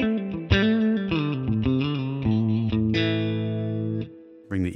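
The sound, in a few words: Mesa/Boogie California Tweed in Amplitube 5, without EQ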